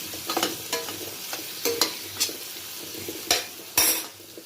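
Drumstick and cashew curry cooks in oil in a pan, a soft steady sizzle broken by several sharp spoon scrapes and clinks against the pot, close by with no talking.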